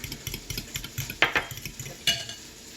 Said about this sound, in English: Let's mix in our milk,